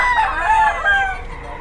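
A kamistiso gamecock rooster crowing loudly and close, one drawn-out wavering call filling the clip and tapering off at the end.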